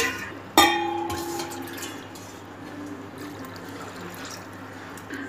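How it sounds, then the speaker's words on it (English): Water poured into a bowl for a summer lemon drink, a sharp splash onset followed by a steady filling gush that slowly settles, with no talking. "Take 4 glass of water"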